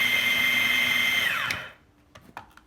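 A kitchen blender liquefying onions runs with a steady high motor whine, then spins down in a falling tone as it switches off, followed by a few small knocks and clicks in the quiet.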